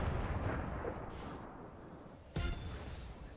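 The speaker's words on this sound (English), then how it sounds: "I hear rockets" Rockets explode in Fortnite with deep, rumbling blasts, one sharp burst standing out over a continuous booming game background, with no talking.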